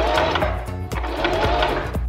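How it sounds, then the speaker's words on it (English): A sewing machine stitches the edge of a knit fabric co-ord, its motor running loud and close in a steady fast rhythmic chatter that continues without a pause. "And what we are going to do is just to sew this."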